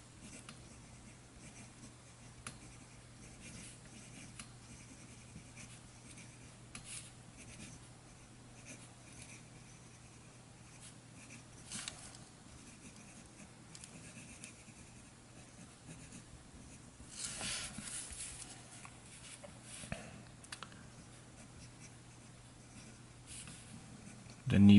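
A fountain pen with a medium steel number 6 JoWo nib scratches softly across 52-gram ivory Tomoe River paper, a faint, continuous writing sound with small strokes and pauses in a quiet room.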